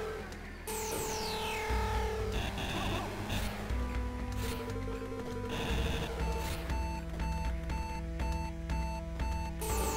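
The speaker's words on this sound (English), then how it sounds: "Still like how that beeping goes to the actual music." Electronic beeping in the game Axiom Verge pulses in a steady rhythm, blending with synthesized music and dense game effects, loud and continuous throughout with no talking.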